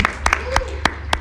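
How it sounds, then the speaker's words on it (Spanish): A few people on a small podcast set clap briefly, five or six sharp separate claps spread unevenly across about a second, close and dry. "Un aplauso"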